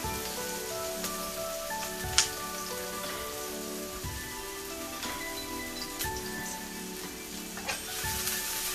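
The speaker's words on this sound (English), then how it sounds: "toss my onions in this pan right here. Saute that up a little bit right there" Onions sauté in a pan for beef tips and gravy, a steady soft sizzle like light rain with occasional clicks and taps, quiet and close, with no talk.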